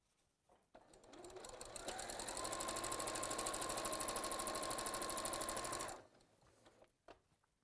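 A sewing machine stitches quilt seams, running up to a steady fast whir for about four seconds and then stopping, with a few small clicks and handling noises before and after.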